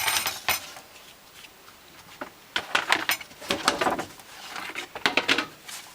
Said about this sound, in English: put your gas canister in your cooker